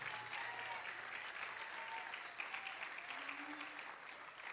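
A church congregation applauds during a sermon, with sustained, even clapping from many hands that holds steady from start to finish.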